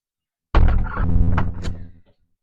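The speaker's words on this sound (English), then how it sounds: "so shut the door" A door is pushed shut indoors with a single close, solid thunk, followed by a brief rattle of the latch as it settles.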